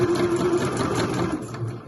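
A sewing machine runs steadily and close by, stitching a quilted bag lining with a continuous mechanical whir and hum, no voices heard.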